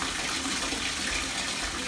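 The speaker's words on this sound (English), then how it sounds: "currently filling the tub" Bathtub filling with water from the tap in a home bathroom, a steady, loud, broadband rush of running water that continues unbroken throughout, with no voices.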